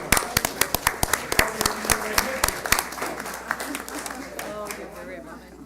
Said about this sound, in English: one more round of applause for everybody, please